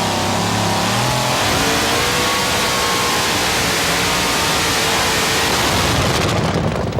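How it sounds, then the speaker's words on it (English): Drag racing car at a 1987 Syracuse event, its engine roaring loud and steady under broad crowd and track noise, then the pitch sags as the engine dies near the end. "And David, as that engine died, the back wheels were locked up."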